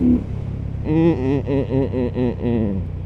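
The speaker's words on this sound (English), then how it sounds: "I just want to hear the engines make the engine noises." A Benda Chinchilla 500 motorcycle engine revs in a quick series of rising and falling blips, close and fairly loud, settling back toward idle between each burst.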